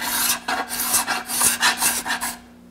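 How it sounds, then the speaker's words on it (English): A card scraper drags across maple, shaving excess dried glue off a glued-up drawer edge in a quick series of raspy strokes, close and alone. "get a little of the excess glue off with a card scraper."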